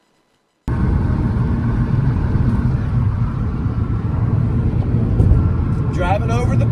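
A truck crosses the Potomac River bridge from Maryland, giving a loud, continuous road rumble and drone that starts abruptly and holds steady, with some brief higher noise near the end.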